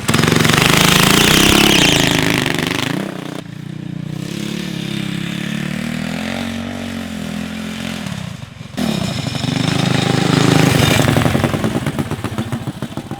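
A single-wheel-drive go kart with a 212 engine races flat out, its loud buzzing, rattling engine revving hard, easing briefly, then roaring up again close by.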